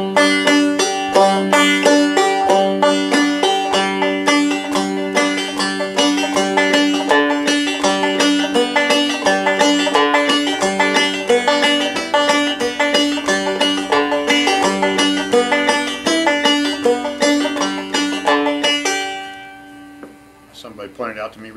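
Clawhammer banjo played with a left-hand pull-off on the first string followed by the open first and fifth strings, a steady bright plucked rhythm running continuously and closely, then fading out near the end.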